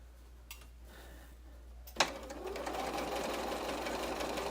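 A Bernina sewing machine that needs daily oiling starts up, a couple of faint clicks giving way to a steady, close mechanical whir that carries on to the end.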